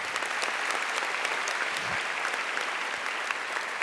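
A graduation ceremony audience applauds a guest speaker, Ambassador James Joseph, with steady, dense clapping from a large crowd throughout, a couple of low thumps mixed in.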